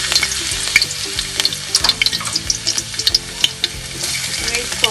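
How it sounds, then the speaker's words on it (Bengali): Chopped garlic frying in hot oil for a Sylheti bottle gourd greens dish, a dense steady sizzle with crackling pops and occasional stirring scrapes, close and loud throughout with no talking. "তেলটা গরম হওয়ার জন্য একটু ওয়েট করব। রসুন কুচিগুলা দিয়ে দিব"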